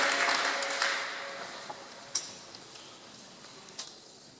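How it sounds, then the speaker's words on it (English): The tail end of audience applause at a veterans tribute ceremony: a brief burst of clapping quickly thins out and fades into a few scattered, quiet claps. "Round of applause."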